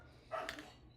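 A pet dog barks once, a short rowdy bark in the background of a quiet indoor room, fairly faint and alone.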